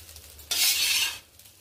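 Egg fried rice being stirred with vegetables in an iron wok: one close, bright scraping sweep that lasts under a second, with quieter kitchen background before and after it.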